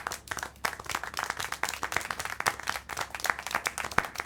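Clapping in the video game Syberia The World Before, a fast, slightly irregular run of hand claps at moderate distance, continuous throughout and with no talking.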